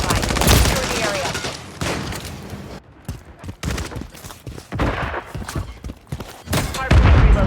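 Rapid gunfire and explosions from the Call of Duty MW3 video game, a dense run of close, loud cracking shots and thuds with brief lulls between bursts.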